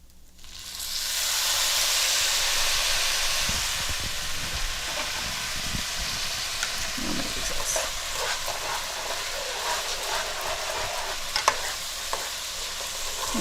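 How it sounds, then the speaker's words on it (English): Quarter cup of white wine poured over rice coated in oil and butter, bursting into a loud steady sizzle and hiss that settles into continuous crackling frying with a few sharp pops near the end, no voices. "now I'm going to add in the wine"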